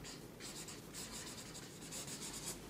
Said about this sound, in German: Wenn der Stift richtig funktionieren würde, wäre es cool.